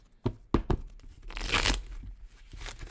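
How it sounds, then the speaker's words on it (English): A deck of tarot cards is shuffled roughly, with a few sharp slaps and then a longer crisp riffling flutter of card stock, close and alone. "Ooh, that was not a good shuffle."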